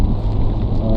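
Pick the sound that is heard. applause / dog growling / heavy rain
heavy rain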